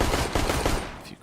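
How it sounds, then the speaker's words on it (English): Rapid automatic gunfire from a Counter-Strike: Global Offensive esports match, a dense burst of loud, quick shots that trails off into quieter game noise at the end. "A few quick shots."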